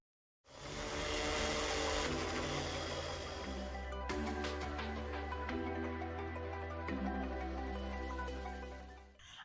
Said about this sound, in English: And now I'm going to be grinding some of it.